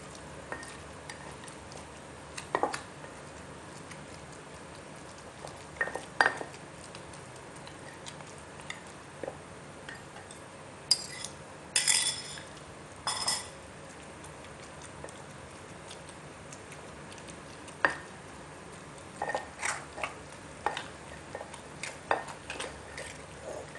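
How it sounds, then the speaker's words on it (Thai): Eggplant mashed with a utensil while cooking Thai Isan-style eggplant soup: scattered soft ticks, taps and squishy patter at irregular intervals, with a short cluster of sharper clinks midway, fairly faint and without talk. "บี้ให้มะเขือมันพอแตกนะคะ"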